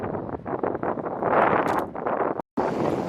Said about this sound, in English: Sorry if you can't hear this for the wind